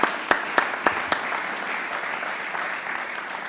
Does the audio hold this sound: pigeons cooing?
no